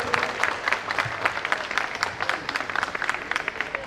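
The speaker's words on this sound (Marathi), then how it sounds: "ते एकदा जोरदार टाळ्या होऊन जाऊ देत." A crowd applauds at a Satyanarayan puja gathering in a residential housing complex building: brisk, dense clapping close by, sustained and lively for several seconds with a faint murmur of voices beneath.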